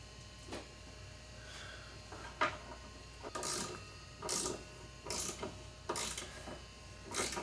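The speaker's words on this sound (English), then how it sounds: "These are screwing in a little bit hard because I did not replace the bolts." Old rusty bolts being turned into a car with a ratchet tool, bursts of clicking ratchet strokes repeating at intervals with pauses between, close and fairly quiet.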